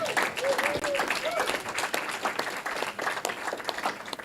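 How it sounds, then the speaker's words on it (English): An audience applauds at the launch of the Caribbean Adaptive Sports Alliance after a musical performance, a dense, steady wash of clapping with crowd noise and a few whistled tones near the start, lasting throughout. "let's give him another round of applause"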